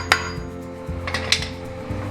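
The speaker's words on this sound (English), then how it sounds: "you can use a hammer and the Clarkson technique to loosen the cone washers" A hammer taps bolts to loosen the cone washers on the front floating axle hub of a 1997 Land Cruiser, giving a few sharp metallic strikes spaced irregularly over a low steady hum.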